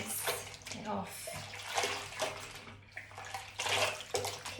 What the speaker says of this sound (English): I'm going to dunk it into the water and pull it out a few times just to almost rinse it off